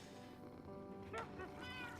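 A cat in the SkyBlock block-building video game gives a couple of short meows, faint against a steady background music bed.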